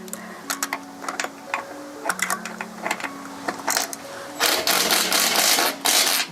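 A stainless steel ratchet strap buckle is cranked tight in a quick series of sharp metallic clicks, in bursts with short pauses, ending in a harsher clattering stretch.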